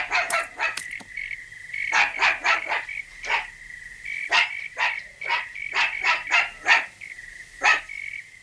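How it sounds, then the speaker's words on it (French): A lone dog in a French Tom Sawyer cartoon barks in quick bursts, sharp close yaps coming in irregular clusters, while a steady tonal whine hums underneath. "Pourquoi est-ce qu'il aboie?"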